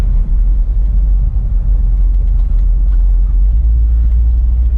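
A 1960 Cadillac Coupe DeVille with air ride suspension cruises along, its engine and road noise forming a smooth, steady, loud low rumble from inside the car.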